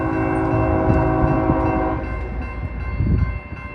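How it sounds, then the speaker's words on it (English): A train rolls through a railway crossing with a sustained, loud horn blast over the rumble and clatter of railcars, the horn fading partway as the wheels keep rumbling nearby. "But here comes the train anyways."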